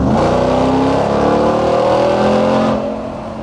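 A 2021 Ram 1500 TRX pickup with a supercharged V8, its exhaust growling loud and deep under acceleration with rising engine tones and supercharger whine, then easing off toward the end.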